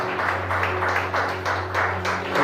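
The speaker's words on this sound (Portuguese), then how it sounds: "Aplaude a Jesus." A church congregation claps in a steady, rhythmic pattern of repeated bursts about twice a second, moderately loud over a low continuous hum.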